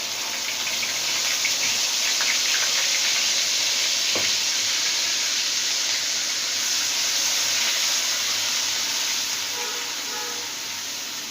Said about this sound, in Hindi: ये प्याज ऐड कर देंगे।